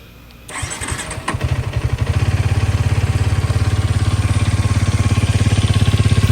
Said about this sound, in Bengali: এটা স্টার্ট দেওয়ার পর এই যে স্টার্ট দিই, সাউন্ডটা, ইঞ্জিনের সাউন্ডটা আপনারা শুনে নেন।